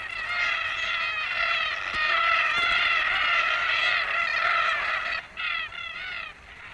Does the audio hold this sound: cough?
no